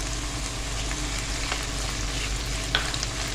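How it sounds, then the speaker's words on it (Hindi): Whole spices, including black peppercorns, cloves, black and green cardamom, cinnamon sticks and cumin seeds, frying with garlic in a pan for chicken korma, giving a steady close sizzle with a faint stirring clink near the end. "अब इसमें हम डालेंगे साबुत मसाले।"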